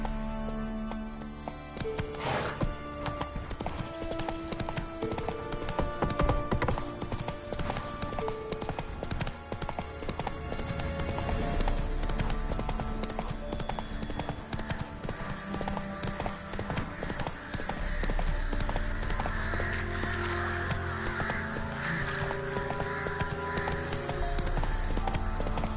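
Roach, a horse in the video game The Witcher 3, clip-clops steadily on hooves through a busy game soundscape with music and ambient layers, the rhythmic footfalls continuing throughout.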